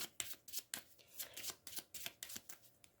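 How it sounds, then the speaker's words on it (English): Card decks from the Hour of Need Gem and Ice expansion pack are riffled and shuffled repeatedly in quick rhythmic bursts, about a dozen crisp flutters, close and fairly quiet with no talk. "So let's shuffle all our decks."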